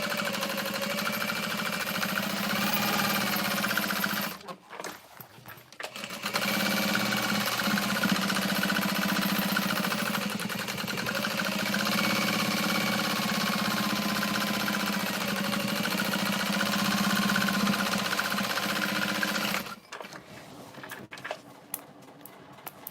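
A sewing machine bastes foam stabilizer onto a large square tote bag pattern piece, running in a steady mechanical hum for long stretches with two short pauses between runs.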